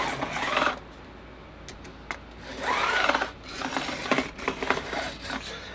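A special metal file angles the fret ends on a Harley Benton Fusion III guitar, with short rasping strokes close by, some louder scraping passes and lighter taps between them.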